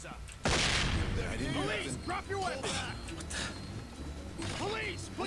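A flashbang grenade detonates in the tactical shooter SWAT 4 with a sudden loud burst, followed by ringing, clattering game effects as someone talks excitedly over it.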